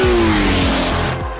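Air-cooled Porsche flat-eight, 3-litre, mounted just behind the driver in a lightweight open-top prototype racer, roars loud and close with a rising then falling engine note and repeated gear-change dips, with no talk over it.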